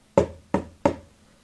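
Three sharp knocks on a hollow door, close and evenly spaced, each with a short resonant decay and no voices.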